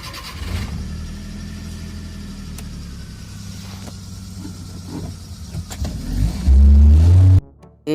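Old Omni van engine in the game Indian Bike Driving 3D cranks and runs with a steady mechanical drone, then surges into a loud revving burst before cutting out abruptly.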